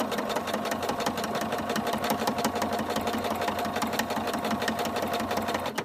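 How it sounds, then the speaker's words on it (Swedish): A sewing machine runs continuously while stitching in a zipper, a fast, even mechanical chatter of needle strokes, close and loud, going forward and backing up without pause. "syr jag 5 steg framåt och så 5 steg bakåt"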